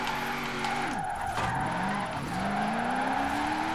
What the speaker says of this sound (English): I press the handbrake now.